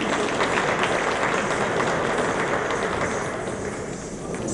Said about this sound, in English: A big round of applause for all the performers